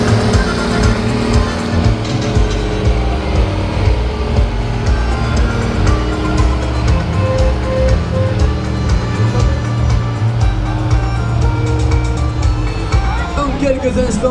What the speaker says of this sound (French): ce truck rodéo va partir en équilibre sur le arrière